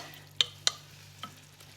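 Carrots, onions and spices frying in a pan are stirred with two sharp scraping clicks in quick succession, then a softer one, over a faint sizzle and a low steady hum.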